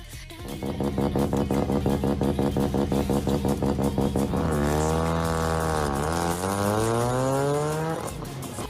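Mazda Wankel rotary engine, a buzzy, rapid-pulsing drone that climbs and falls in pitch as it revs, loud and close throughout with no talking.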